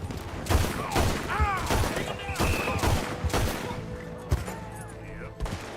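Rapid gunfire in Red Dead Redemption 2, a shootout of many close, sharp shots cracking one after another over the game's background, with a voice talking over part of it.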